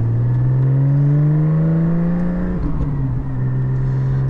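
Porsche 718 GT4 with a Soul Performance rear exhaust section, a steady loud droning exhaust note while cruising, pitch holding then dipping briefly and recovering, close and continuous with no talk.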